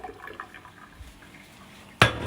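Water pours out of a cooking pan in a sudden loud splashing gush near the end, after a quiet stretch of faint kitchen clatter.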